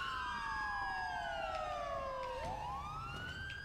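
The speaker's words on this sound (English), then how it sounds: "Siren." Police car siren in a ToeWorld police roleplay video game, a loud wailing tone sweeping slowly downward and then rising again, with a second overlapping siren tone and a low engine rumble beneath, no voices.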